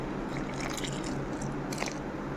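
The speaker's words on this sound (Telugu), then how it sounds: "ఇప్పుడు కొద్ది వాటర్ పోస్తూ కలుపుకోవాలన్నమాట" Wheat flour dough for bobbatlu is worked by hand while water is poured in, making short wet squishing and sticky squelches in a close, quiet kitchen.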